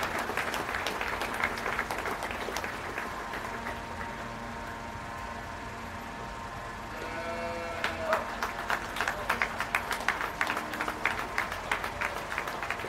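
Crowd applause at a county fair beef show, steady clapping that fades briefly in the middle and then picks up again, with a cow or calf bellowing partway through.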